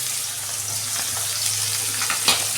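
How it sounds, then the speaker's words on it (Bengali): Onion fries in oil with cinnamon, cardamom and cloves, a close continuous sizzle with a few light stirring taps and no speech. "পেঁয়াজটা তখন ভাজা হোক"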